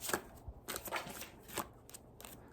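A tarot deck shuffled by hand in a quiet room, with several crisp, papery riffles and soft card slaps in an uneven rhythm, close and fairly quiet, with no talking.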